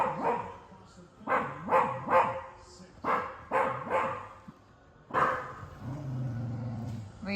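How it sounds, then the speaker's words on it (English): A dog named Rio barks indoors with a toy in its mouth, a series of muffled close barks in short bursts, followed by a low growl. "Why are you barking with a toy in your mouth?"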